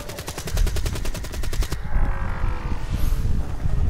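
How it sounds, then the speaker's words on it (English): Rapid automatic gunfire in Call of Duty: Black Ops III Dead Ops Arcade 2, a loud, steady stream of evenly spaced shots for under two seconds, followed by a roaring, wind-like rumble of game noise. "I'm shooting directly at him"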